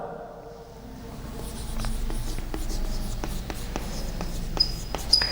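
Chalk writing on a classroom board during an English lesson, a series of close tapping strokes and scratches spaced irregularly over a low room hum, with no speech.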